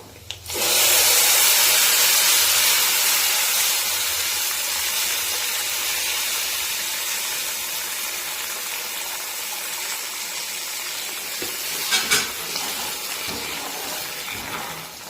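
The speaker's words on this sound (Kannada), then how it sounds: "ಮೆಣಸಿನ್ಕಾಯಿ ಎಲ್ಲ ಚೆನ್ನಾಗಿ ಫ್ರೈ ಆಗಿದೆ. ಈಗ ಏನ್ ಮಾಡೋಣ ಅಂದ್ರೆ ಈ ಹುಣಸೆ ಹಣ್ಣು ಇದಕ್ಕೆ ಹಾಕೋಣ" Tamarind dropped into a pan of fried chilies brings a strong, sustained sizzling hiss that holds steady for many seconds, with a brief clatter near the end.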